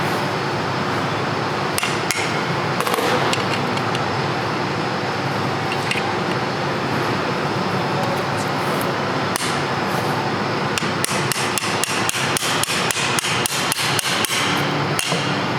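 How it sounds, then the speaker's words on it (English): Repeated metal-on-metal hammer strikes against a pry bar wedged on a Nissan Murano or Pathfinder transfer case, sharp close clanks spread through the clip and coming in a rapid burst of blows toward the end, with no talk. "you take it and you whack it with a hammer"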